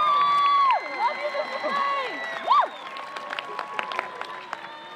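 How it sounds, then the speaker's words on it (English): Graduation ceremony crowd breaks into applause and cheering, starting loud and thinning over a few seconds, with shouts, whistles and voices rising above the steady clapping. "Let's give them a round of applause of thanks."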